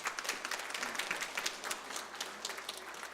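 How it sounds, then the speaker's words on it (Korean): A church congregation claps together in a soft, steady patter of applause, heard from some distance in a large room. "잘 감당하시도록 한번 박수 한번 쳐주시기 바랍니다."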